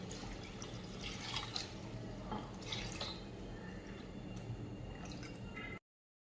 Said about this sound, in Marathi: हे डाळीचं जे पाणी निघालेलं आहे ते पण आता आपण टाकत आहोत